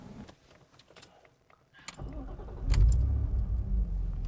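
An Alpina B2.5 engine cranks and catches, then settles into a loud, steady rumbling idle close by, following a few quiet clicks and rustles.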